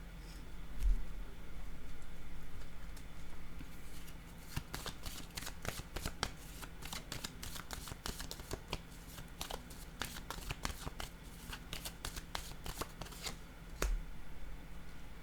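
Tarot cards being handled and shuffled at close range, a long run of quick riffling snaps and soft slides after a quieter opening, with no talking.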